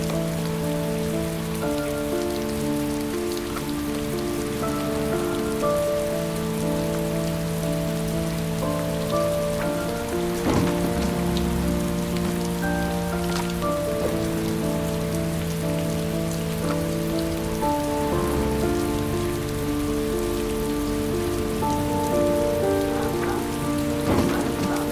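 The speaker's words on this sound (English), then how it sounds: "It's raining." Rain in the video game Heavy Rain, a steady loud patter on surfaces that lasts the whole stretch, with a soft musical score droning beneath it.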